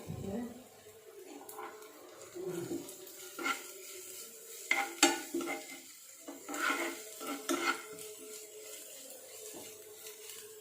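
Curry leaves and shallots fry in hot oil for an oyster mushroom stir-fry, with soft sizzling under intermittent scraping and clinks of a spoon against the pan.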